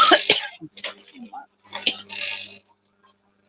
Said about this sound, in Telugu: నా దగ్గు తప్ప ఇంకే రాదు